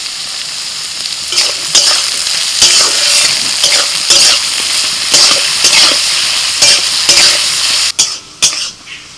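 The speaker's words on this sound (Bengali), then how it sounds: "রাইসের সবজি কিন্তু খুব বেশি ভাজলে হবে না দেখুন হালকা ভাজা হয়েছে" Beans, capsicum, carrots and green chillies stir-fry for fried rice with a loud, constant sizzle. Repeated scraping strokes of a spatula against the pan come at an uneven rhythm, close up.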